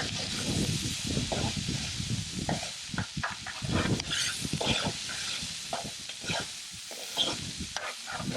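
Garlic and onion sizzle steadily in a hot pan, close by, with a constant frying hiss broken by repeated scraping and stirring strokes.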